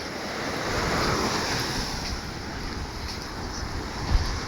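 Sea waves wash continuously onto a shore lined with damaged hotels, giving a broad, steady surf roar mixed with wind buffeting on the microphone and one brief thump near the end.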